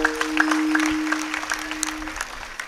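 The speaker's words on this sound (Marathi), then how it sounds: "त्यांच्याकरता एकदा जोरदार टाळ्या वाजायच्या" Applause at a Marathi kirtan gathering, with claps breaking out after a call to honour the organisers and carrying on steadily as a broad, moderately loud wash, with a sustained tone running underneath.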